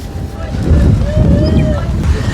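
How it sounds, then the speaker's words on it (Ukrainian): A sea breeze gusts along the shore at Odesa, buffeting the microphone with a loud, low rumbling rush that swells and eases over a couple of seconds. "тут такий хороший вітерець"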